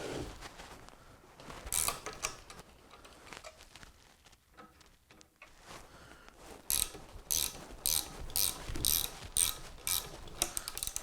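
Small parts of a 3D printed miniature train being tightened, with quiet clicking ratchet-like mechanical sounds that grow into a rapid burst of louder clicks and rattles near the end, no voices.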